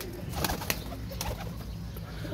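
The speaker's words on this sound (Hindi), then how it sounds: "ये देखें जी कबूतर।" Pigeons on a rooftop coo in low, soft murmurs amid a busy outdoor background, with a few brief sharp sounds that may be wing flaps, fairly near and without speech.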